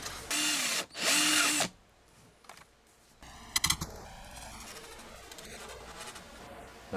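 A power drill runs in two loud, sustained bursts of about half a second each, followed by quieter clicks, taps and handling noise from a workbench build.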